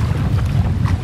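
Wind buffets the microphone on an open lake in Isojärvi National Park, Finland, while packrafting, a steady low rumble with gusty swells and no voices.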